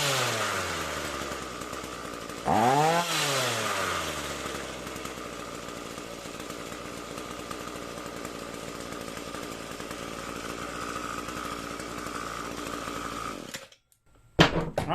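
A small Ryobi two-stroke engine idles after a carburetor swap, a steady buzzing drone that briefly revs up and falls back early on, then keeps idling before cutting out near the end.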